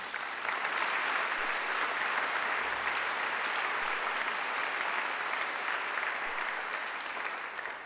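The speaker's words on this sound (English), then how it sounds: "I think Angela deserves another great round of applause." A graduation ceremony audience gives sustained, steady applause, a dense and even wash of many hands clapping at close range for nearly eight seconds.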